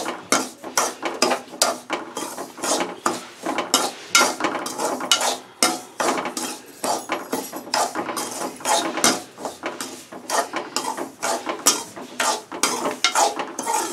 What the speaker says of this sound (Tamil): நல்லா கொஞ்சம் ப்ரௌனாக வர மாதிரி வறுத்துக்கோங்க ரவையை